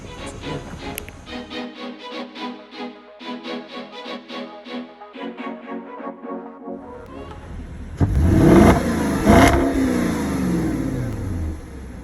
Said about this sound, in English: First time taking the Porsche off road.